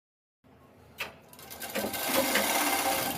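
A sewing machine runs a half-inch seam on a salwar, starting after a short silence with a clack, then building into a steady, close, fast whirring stitch with no voices.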